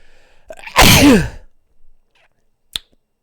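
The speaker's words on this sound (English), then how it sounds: "I got to sneeze" A single loud, sudden sneeze bursts out, followed by a brief breathy exhale and a short click near the end.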